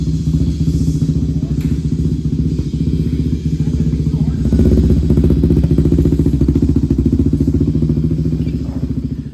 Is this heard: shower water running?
no